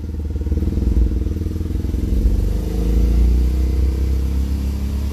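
A BMW Isetta engine revs in first gear, giving a loud, buzzy, throbbing drone with clattery low pulses that rises and holds steady without pause.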